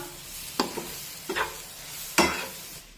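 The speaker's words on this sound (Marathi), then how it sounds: "दोन ते तीन मिनिटे हे मटार यामध्ये व्यवस्थित परतून घेऊया गॅसची फ्लेम अगदी मंदच ठेवा" Green peas being sautéed in a pan over a very low gas flame, a quiet background sizzle broken by three or four distinct scraping stirs of a spoon, close and unaccompanied by speech.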